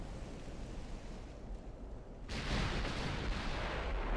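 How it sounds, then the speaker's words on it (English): A full salvo of high-explosive shells from heavy warship guns in Ultimate Admiral Dreadnought, a sudden loud booming blast that erupts midway after low rumbling background and then sustains as a rolling roar. "Full HE salvo."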